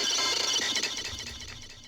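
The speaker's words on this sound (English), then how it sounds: "We have this fill leading us into the drop." Electronic drum fill building toward the drop, with lows cut and delay added, rapid hits smeared by echoes under a bright, dense synth wash that fades slightly.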